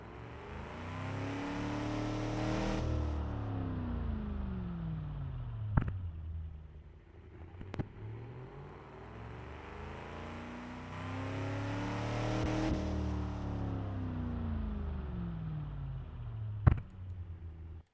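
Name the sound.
small 1950s truck engine revving in Automation, a video game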